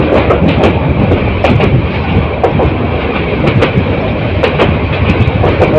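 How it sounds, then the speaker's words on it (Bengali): A Bolaka Commuter train on the Mymensingh–Dhaka line runs through jungle and crop fields, a steady loud rumble of wheels with sharp track clicks recurring throughout, close by and with no voices. "ট্রেন এই জঙ্গলের ভিতর দিয়ে যাচ্ছে।"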